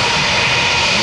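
Jet blast from a United Boeing 737 at Tampa airport roars as a loud, dense, continuous rush of engine noise filling the whole short moment, close and steady with no other sounds.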